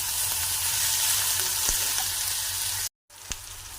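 Onion and tomato sizzle steadily in a pan as chole is prepared, a close continuous frying hiss with a couple of light utensil taps, a brief cut to silence near the end, then sizzling again.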